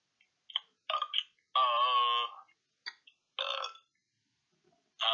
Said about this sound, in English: Those burps were in there too, by the way.